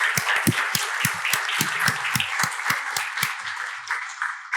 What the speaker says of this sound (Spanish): Germán, un aplauso para ellos.